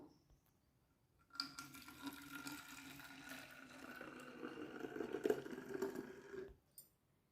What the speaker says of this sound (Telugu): వాటిల్లో అయితే ఇప్పుడైతే ఈ లిక్విడ్ అయితే వేస్తాను.